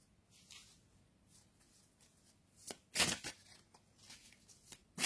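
Tarot cards being shuffled by hand before a reading, soft riffling and sliding bursts that swell into a few louder flurries near the end, heard alone in a quiet room.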